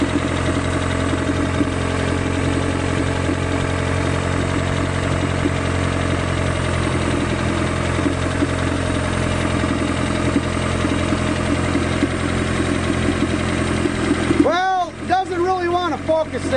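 Engine idling on a GEET fuel processor, a steady close mechanical hum with a knocking, vibrating rhythm throughout; near the end a voice speaks over it.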